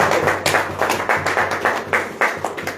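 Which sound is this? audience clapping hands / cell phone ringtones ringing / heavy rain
audience clapping hands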